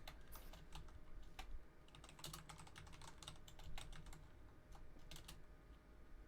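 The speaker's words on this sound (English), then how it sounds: "I'm just typing" Rapid typing on a computer keyboard, quiet and close, with irregular bursts of key clicks and slightly louder taps throughout, no talking.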